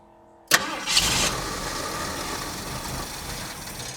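A Ford Ranchero V8 fitted with a Holley carburetor cranks briefly and catches at once, then settles into a steady, close rumbling idle that continues to the end.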